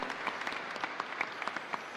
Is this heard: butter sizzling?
no